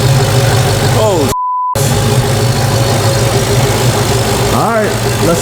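A naturally aspirated Dodge Hellcat engine with its supercharger removed idles loud and close with a steady, lumpy rumble, briefly cut by a short test tone, while people talk over it.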